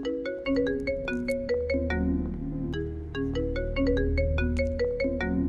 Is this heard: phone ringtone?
yes